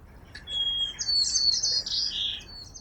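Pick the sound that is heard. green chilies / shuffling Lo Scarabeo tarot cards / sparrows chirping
sparrows chirping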